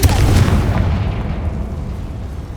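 A Confringo fire spell explodes in the Hogwarts Legacy video game, a loud booming blast at the start that rumbles and slowly decays over a couple of seconds, with no speech.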